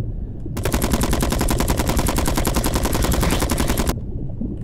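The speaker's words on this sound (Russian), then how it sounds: "Называется автомат." An automatic rifle in the crab battle game King of Crabs fires one long, rapid, evenly spaced burst lasting roughly three seconds, loud and continuous over a low background rumble before stopping abruptly.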